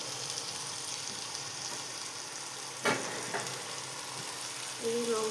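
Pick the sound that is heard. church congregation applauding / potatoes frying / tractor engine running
potatoes frying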